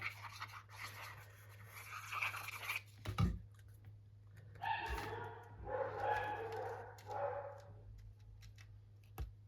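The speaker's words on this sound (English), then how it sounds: "Can you guys hear my dogs in the background?" Dogs bark faintly in the distance in a few bursts, with a steady low hum and occasional nearby clicks and taps.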